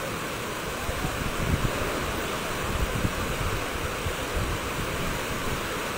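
Gusty typhoon wind in Cainta, Rizal, a steady broadband roar with the rush swelling and easing in brief surges, loud and continuous with no voices.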